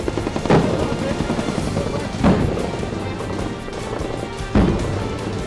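Gunfire from a Taiwanese army night live-fire drill: three sharp loud reports spaced a couple of seconds apart, cutting through a steady rumbling background.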